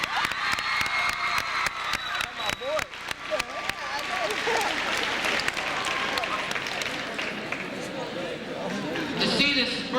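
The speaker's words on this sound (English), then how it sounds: "everybody give him a big round of applause" Crowd applause at a boys' cross country celebration on Cape Henlopen, dense clapping sustained across the room alongside cheers and scattered shouts, with voices chattering beneath the noise.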